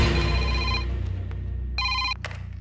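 A telephone rings in a Telugu comedy film scene, two electronic ringtone bursts with a steady hum and low background music underneath, the second burst cutting off abruptly.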